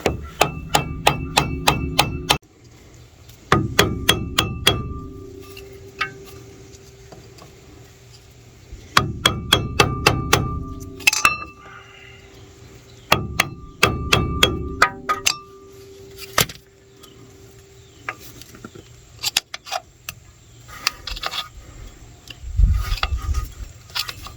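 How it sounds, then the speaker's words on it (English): Sharp metallic hammer taps on a wheel rotor of a Chevy Suburban, some in quick clusters and others spaced apart, ringing clearly with pauses and low rumbling between bursts. "You can remove this by tapping the edges with a screwdriver or hammer"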